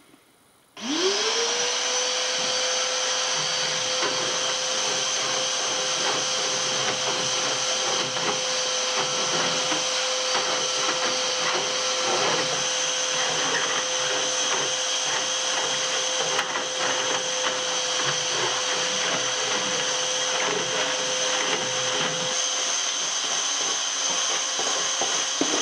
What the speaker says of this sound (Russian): А сейчас в бой пойдет пылесос